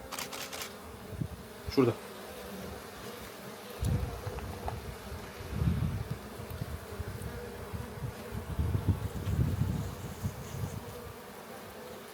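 Honeybees buzz in a steady, close swarm during a honey harvest at an apiary in Çatalca, Istanbul, the drone swelling and easing, with a brief spoken word over it.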